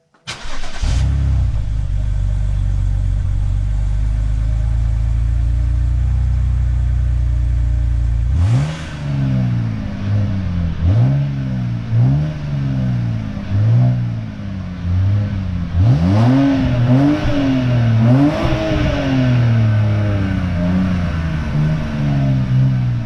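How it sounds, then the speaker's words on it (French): A nearly cold car engine with its stock rear muffler starts and idles with a steady low exhaust drone, then gets revved in a series of sharp blips, rising and falling. "je vais démarrer. La voiture est presque froide et vous allez voir le bruit que ça fait avec le silencieux"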